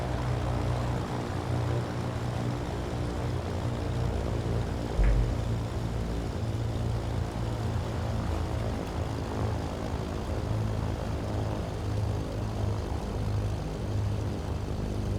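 A Cessna 310R's propeller engines drone steadily while taxiing in Microsoft Flight Simulator 2024, a loud, continuous buzzing hum with no voices over it.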